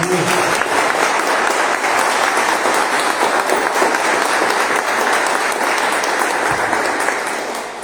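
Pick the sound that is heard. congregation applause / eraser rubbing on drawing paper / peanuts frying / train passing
congregation applause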